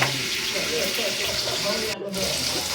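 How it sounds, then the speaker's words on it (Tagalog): Water runs in a steady, close rush as a small amount is poured into a pot for cooking halaan clams, with a brief break near the end. "Lagyan na nga natin ng tubig. Kunting tubig lang."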